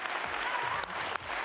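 Dense, steady applause from a dance-show audience, a continuous wash of clapping hands with a few sharper claps standing out.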